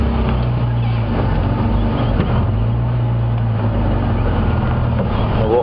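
Safari vehicle on a sunrise game drive creeping forward very slightly, a steady low engine drone with continuous rumble and no pauses, close and fairly loud.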